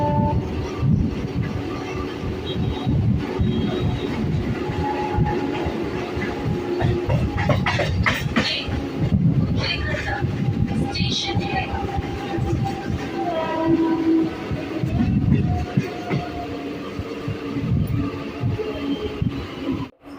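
A passenger train on the Katwa–Barddhaman line, just leaving Sripat Srikhanda station, rumbles loudly along the tracks with a steady, rhythmic clatter and rattling carriages, faint horn-like tones drifting in and out, continuous throughout.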